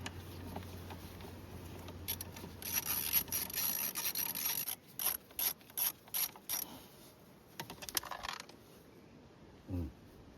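Screws being spun out of the airbox cover of a Johnson 50 hp two-stroke outboard engine, with close ratcheting and whirring clicks, then a run of short, evenly spaced bursts.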